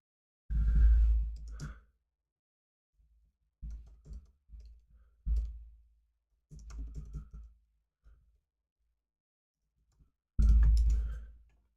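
Keys clatter on a computer keyboard while a reply to a tweet is typed, coming in short irregular bursts separated by pauses, close and moderately loud in a quiet room.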